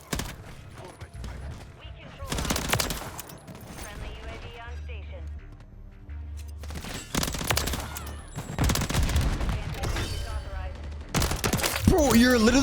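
Rapid bursts of RAM 9 SMG fire in Call of Duty: Modern Warfare III, several dense volleys separated by short pauses, with mechanical clicks and talking between the shots.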